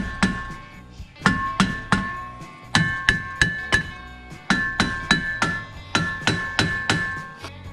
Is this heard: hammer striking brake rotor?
yes